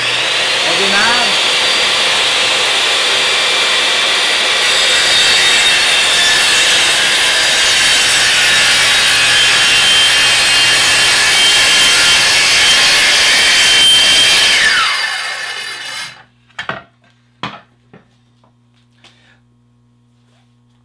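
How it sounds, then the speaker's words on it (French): A circular saw spins up and cuts through wood with a loud, sustained whining buzz for about fifteen seconds, then winds down, followed by a few sharp knocks and handling clatters. "en s'assurant que notre scie n'est pas en contact avec la matière quand on va démarrer l'outil"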